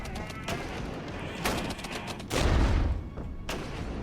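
Artillery fire in the strategy game WARNO, a series of distant booms and shell impacts landing every second or so, with one heavier low rumble midway.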